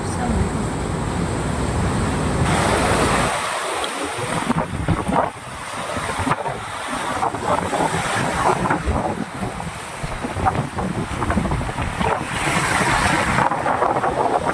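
Strong wind buffets the microphone steadily over the wash of ocean waves on a fishing trip, with people talking faintly underneath.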